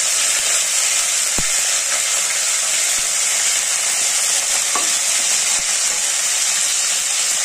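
Curry leaves dropped into hot oil as a buttermilk curry tempering begins, giving a steady, dense sizzle and crackle close by, with a few sharp pops and stirring clicks over the hiss and no talk.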